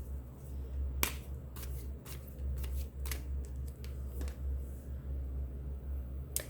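A deck of cards being shuffled during a tarot-style card reading, a faint series of quick riffling snaps and flicks over a low steady hum, close, with no talking.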